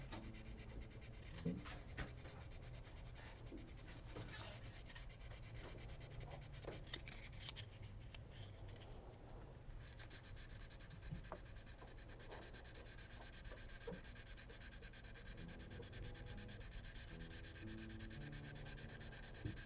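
Sandpaper scuffing the back of a guitar neck, a steady dry rubbing that runs continuously and close up, with no one talking.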